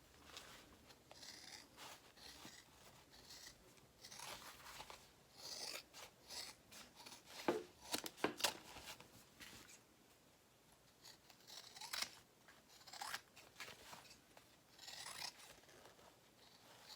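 Scissors cut around a fabric piece, producing faint, repeated rasping snips and rubbing sounds in an irregular rhythm, quiet and close.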